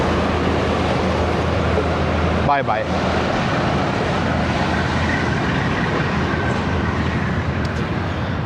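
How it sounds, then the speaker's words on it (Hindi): A Lahore–Rawalpindi rail car runs with a steady, loud rumble throughout, and a brief whistle-like sweep sounds near the middle. A voice speaks briefly over the noise. "लाहौर रावलपिंडी की मशहूर ज़माना रेल कार।"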